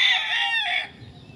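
A white Kelso fighting cock crows once, loud and close, a strained, drawn-out call that breaks partway and trails off into quiet farmyard background.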